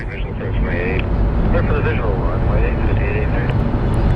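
JetBlue airliner at Phoenix Sky Harbor airport, a broad steady jet rumble with wind noise filling the clip while someone talks over it.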